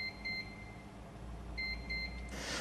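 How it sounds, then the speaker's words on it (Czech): Paired electronic beeps from the receiver of a Sanela radar urinal flusher, one pair early and another pair later over a steady low background hum, ending with a brief burst of noise. "Stupeň 11 až 20 – dvojité pípnutí."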